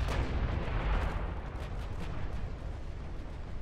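Big battleship guns firing in the naval warfare game Ultimate Admiral Dreadnoughts, a sustained rumbling roar of heavy gunfire with overlapping booms, loud and dense throughout with no talk.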